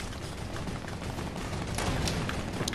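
Video game gunfire in a Food Fight match, with a sniper rifle in play: a dense burst of sharp shots and cracks over a steady noisy bed, with a few louder reports near the end.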